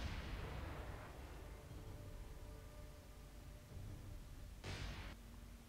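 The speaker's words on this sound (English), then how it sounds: "Big explosion on the rear of that enemy cruiser." An explosion on the rear of an enemy cruiser in the naval combat game War on the Sea: a broad rumbling blast fades out at the start, and a second sharp burst hits near the end.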